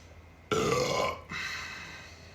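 A man lets out a loud, close burp after drinking a vanilla beer, one long rasping belch that breaks briefly and then trails off.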